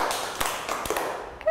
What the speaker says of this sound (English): If you can hear me, clap three times.